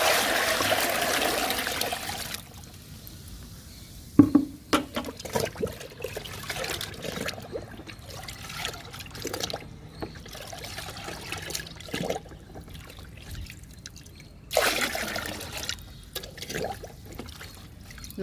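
Water trickling and pouring steadily into a liquid fertilizer mix of oats liquid and kitchen-waste liquid for fruit plants, a close continuous stream with a few sharper splashes and knocks, no talking.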